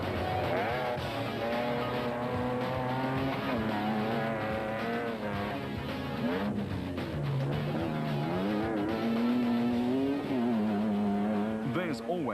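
A Castrol Toyota Hilux rally truck running fast in the Carnival City 400 rally, a loud continuous engine roar with rising and falling revs through gear changes, while a commentator talks over it throughout.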